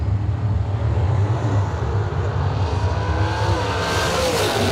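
A Worthy chassis dragster sits at the drag strip starting line, its engine a loud, steady, rumbling roar that fills the whole stretch without letup.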